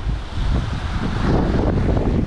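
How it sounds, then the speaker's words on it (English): Strong wind buffets the microphone in a continuous loud rumble at a bridge by a grass track in Florence, with steady gusty roar throughout and no talking. "I'm sure everyone can tell, but it is incredibly windy."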